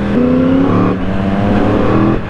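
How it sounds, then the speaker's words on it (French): A Yamaha R1 motorcycle engine revs hard while standing, with a loud, close, sustained roar that rises in pitch, dips briefly, then climbs again before easing off. "on va faire le petit test du vroom vroom"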